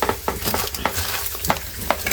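Fish fries in mustard oil in a pan during a Sundarban forest trip, with crackling sizzle and repeated scraping stirs of a utensil at a brisk, uneven rhythm, close and fairly loud.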